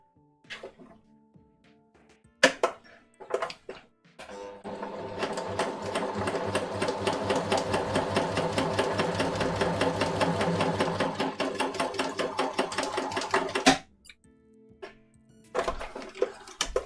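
Sewing machine stitching pin-tucks on a shirt at a 1.5 stitch setting: a few short stop-start bursts, then a long steady rapid run of whirring clatter, then more brief bursts, all fairly quiet and close.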